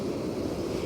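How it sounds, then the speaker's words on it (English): A brief, steady wash of surf noise mixed with wind rushing across the microphone, even and unbroken, with no voices. "This is the sound of the beach."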